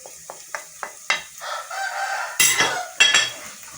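Spices for Lahori chole hit the pan and are stirred, with a few sharp taps of a utensil followed by bursts of frying sizzle, close and fairly loud.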